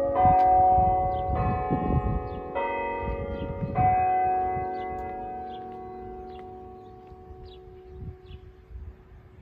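The floral clock at Niagara Falls chimes outdoors, with four loud bell strikes spaced about a second apart, each ringing on and fading into a long decay.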